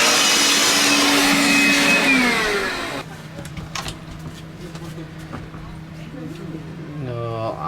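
A vacuum cleaner runs on a caravan floor after grooves were cut for underfloor heating, loud and close at first with a dropping whine, then quieter and steadier as it works on, with a voice briefly at the end.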